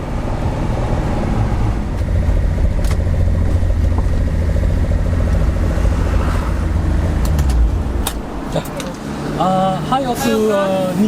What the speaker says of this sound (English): Hakosuka 2000. This beautiful inline 6.